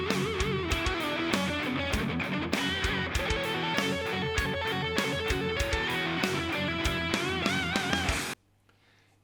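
Heavy metal shred lead: a fast, distorted electric guitar lick with rapid picked runs and bends, loud and continuous before cutting off sharply into near silence.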